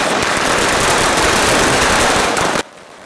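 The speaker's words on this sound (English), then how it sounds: "a prayer, communion, and of course, the fireworks." A dense, continuous crackle of rapid firework bursts at a Christmas party, loud and close, cutting off abruptly near the end into quiet.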